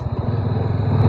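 A motorbike is ridden on a rough hill road, its engine giving a steady, close, low putter that builds slightly toward the end, with no talk over it.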